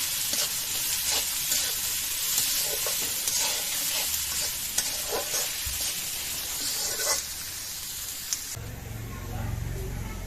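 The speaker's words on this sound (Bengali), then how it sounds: "পেঁয়াজ খুব ভালো করে ভেজে নেব।" Onions frying in a pan, a continuous loud sizzle with stirring scrapes throughout, the tone shifting near the end.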